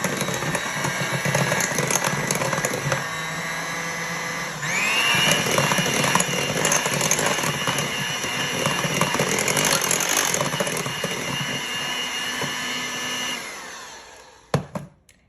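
An electric hand mixer whirs steadily through banana bread batter as two eggs are blended in, a loud sustained motor drone that shifts pitch partway through and cuts off abruptly near the end with a few clunks.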